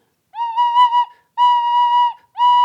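A tin whistle plays three sustained notes of the same pitch, clear and close, with short breaths of silence between them.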